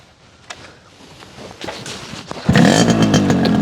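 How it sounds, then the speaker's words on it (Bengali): A Yamaha RX115 motorcycle engine kicks into life after some clattering and handling noises, then settles into a loud, steady idle with a rapid, even thump. "আচ্ছা ভাই গাড়ি রিস্টার্ট করেন সাউন্ড শুনি আমরা"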